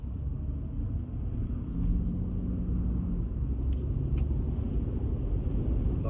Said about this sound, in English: Quite a windy day out here today.